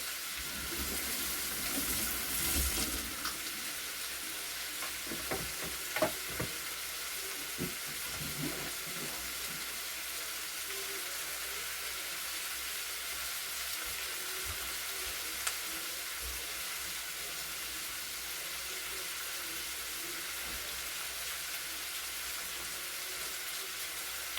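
Steady sizzling of food frying in a pan, a constant hiss with occasional soft clicks and bumps, no voices.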